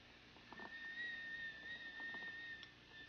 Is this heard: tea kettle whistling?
yes